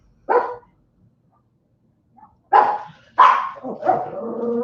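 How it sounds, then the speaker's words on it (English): A dog barks indoors in four loud, close yaps: one alone, then after a pause three more in quick succession, the last trailing into a whiny tone. "If you need to bark, go outside."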